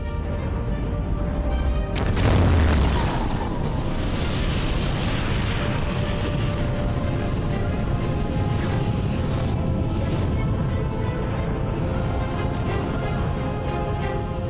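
Cinematic impact effect of the planet Theia crashing into Earth: a deep, loud, sustained roar with a sharp burst early on, then a continuous rumbling wash that lingers without letting up.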